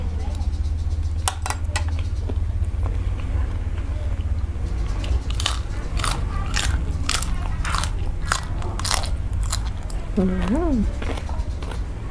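Fermented shrimp eaten with jasmine and brown rice gives close, repeated crunchy bites and chewing, with light clinks of cutlery on a dish. A voice makes a brief sound near the end.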